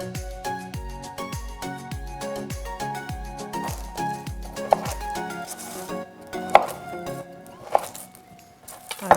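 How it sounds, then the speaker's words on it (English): A knife chops through a brownie on a cutting board in a quick, regular run of close thunks, slowing later into a few sharper, louder taps, with no talking. "Now all we have to do is chop up our brownie into bits,"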